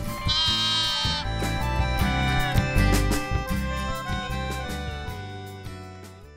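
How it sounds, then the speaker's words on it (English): Lambs bleat repeatedly in a series of wavering, nasal cries over a steady bed of background music, loud and close throughout. "Just like people, lambs can recognize their mother's voices."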